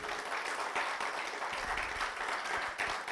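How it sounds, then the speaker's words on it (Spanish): A church congregation at a Spanish-speaking Christian service gives a round of applause. The clapping is a soft, dense, continuous wash, heard fairly faintly and without speech. "Le damos un aplauso al Señor, hermanos."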